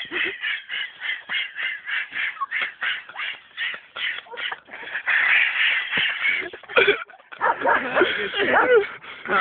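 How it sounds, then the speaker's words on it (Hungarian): A dog barks close by in a long series of quick, rhythmic barks mixed with yips and whining whimpers. The barking grows denser and more agitated toward the end. "Nem, már ugat Damon."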